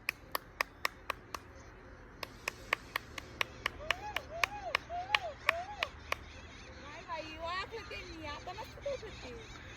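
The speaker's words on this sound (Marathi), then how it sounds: "तू टाळ्या वाजव ना दोन तीन" Hand clapping rings out near water to scare off a flock of crows and egrets, a string of sharp, evenly spaced claps followed by a second run, with bird calls rising afterward and people speaking in the background.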